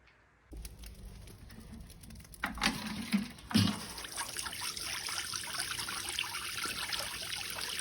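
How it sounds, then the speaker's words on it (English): Water pouring steadily into a container, a continuous trickling splash with a few louder sloshes early on, close and moderately quiet. "Filling the water up."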